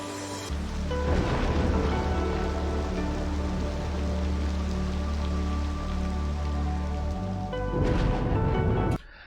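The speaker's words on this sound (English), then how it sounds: "when you see a lightning strike in the distance, the sound actually has to travel for a while before you can hear it" Steady rain in the Cities Skylines 2 city-building game pours loud and close, broadband and continuous, under a low rolling rumble of distant thunder that swells near the end before cutting off.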